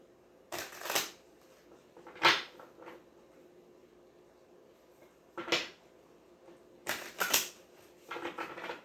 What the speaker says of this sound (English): One more shuffle and we'll pull a card.